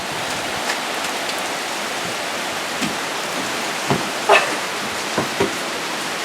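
Soft, steady rainfall hisses in the background, with a few scattered louder drips and taps standing out.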